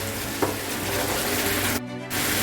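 Spice masala is sautéed in a pan for egg lababdar, a steady close sizzle with a stir-scrape early on and a brief dip near the end before the frying resumes.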